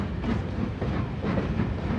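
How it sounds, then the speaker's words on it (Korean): A dedicated reporting train with three freight cars, three passenger cars and a dining car rumbles along a Chinese railway line, with a continuous loud rolling roar and faint rhythmic wheel clatter throughout. "취재팀은 중국 정부의 협조를 받아 취재 전용 열차를 이용했는데 이 열차는 화물차 3칸, 객차 3칸, 그리고 식당차까지 겸비하고 있었다"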